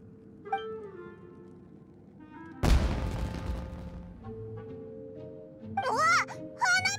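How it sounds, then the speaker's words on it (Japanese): A sudden loud boom of fireworks in Genshin Impact, its crackle fading over a second or two, followed by game-style voices and sound effects. "わ、花火だ。 あそこで何か爆発したぞ。"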